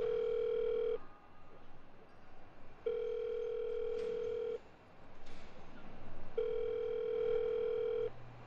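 A telephone ringback tone plays while a call is being placed: three long steady tone pulses separated by pauses, set against a hissy background.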